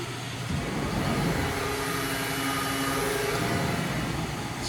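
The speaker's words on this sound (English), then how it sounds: "So spindle's on." Spindle of a Haas VF2 CNC vertical milling machine running in high gear at 2200 RPM, giving a steady, continuous mechanical hum with a faint whine, unchanging from start to finish.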